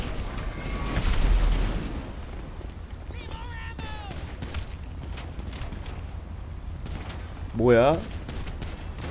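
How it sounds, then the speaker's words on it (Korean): Gunfire and explosions in GTA V during a chaotic group birthday gathering with fireworks and RPGs, scattered booms and bursts of shots layered under ongoing talk, with whistling firework-like streaks and a louder blast near the end. "지금 무기 드니까 총 쏘는 건가요, 경찰들이?"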